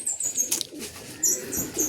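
Racing pigeon, a black check, arriving home at the loft during a derby race: soft cooing and brief wing flaps close by, with faint chirps and light background noise.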